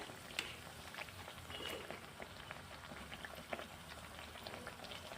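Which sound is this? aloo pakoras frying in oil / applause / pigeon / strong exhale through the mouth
aloo pakoras frying in oil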